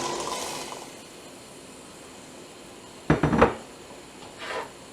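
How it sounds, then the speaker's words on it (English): Eight cups of cranberries tumble into a pot of simmering syrup, a sudden close rattle and splash of many berries lasting under a second, then a smaller clatter shortly after over a faint bubbling background. "I'm going to add my 8 cups of cranberries"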